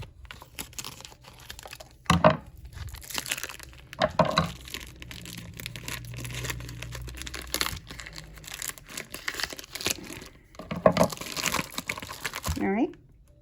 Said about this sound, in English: Now I'm just going to take my bacon and we're going to cut it open.